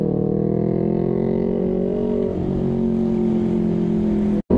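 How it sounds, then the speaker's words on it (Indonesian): A Kawasaki Ninja 250 FI motorcycle fitted with an R9 exhaust without its dB killer drones loud and steady inside a road tunnel, a dense booming roar that holds throughout before a brief cutout near the end. "suara knalpotnya Mas Anggi yang pakai R9 tanpa DB killer, bising parah"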